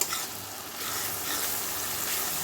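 Spices frying with chopped capsicum and tomato in a pan, a continuous close hiss and sizzle with a louder burst at the start.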